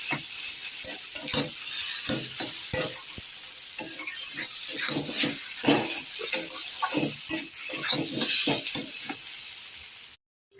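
Spiced potatoes with turmeric, cumin and coriander sizzle in a pan while a utensil stirs and scrapes them in uneven strokes. The frying is close and loud and goes on without pause for about ten seconds, then stops abruptly.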